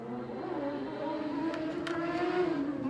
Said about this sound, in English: there's a lunatic driving down the street there